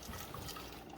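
A thin stream of water trickles and splashes from an Amazon Basics Dual Brew single-serve capsule coffee maker during a failed K-cup brew, faint and close, with no voices.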